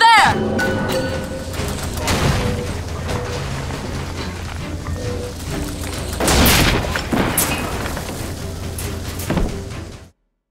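Rocket explosions in the video game BioShock Infinite: heavy booms and thuds burst out amid a busy battle mix, with one big blast near the middle and another toward the end, loud and close under game noise.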